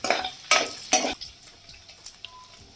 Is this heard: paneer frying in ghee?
yes